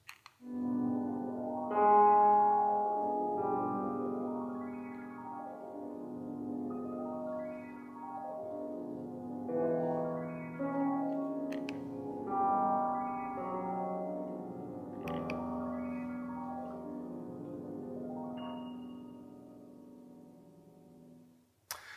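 The divine arpeggio passage from Fantasia Divina played through at performance speed, cascading arpeggios rising and falling without pause over about twenty seconds, clear and steady with no talking.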